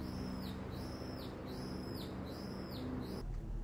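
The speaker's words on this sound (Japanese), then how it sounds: "あと鳥とセミがやかましいです" A loud, continuous cicada drone fills the air while a bird repeats a sweeping, whistled call about four times before the sound cuts off.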